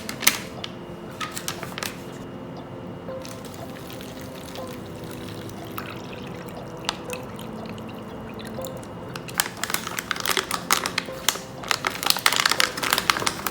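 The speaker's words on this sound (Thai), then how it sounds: "ใส่น้ำลงไปถึงขีดนี้นะครับ" Water is poured into a US military MRE orange drink pouch, a soft trickling and splashing with crinkly plastic handling, close and fairly quiet, growing busier toward the end.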